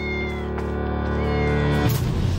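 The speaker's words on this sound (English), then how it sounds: "It's infested with cats." Cats meow in Rome, a steady, drawn-out tonal cry that holds close and clear for about two seconds before breaking off into a brief rough scuffle.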